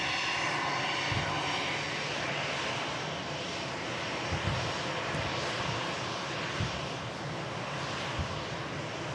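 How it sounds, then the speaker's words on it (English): An ITA Airways airliner arriving at Manchester Airport, its jet engines a loud, steady roar filling the air, with light wind noise and a few faint thumps. "Beautiful ITA Airways coming in here from, I assume, Milan"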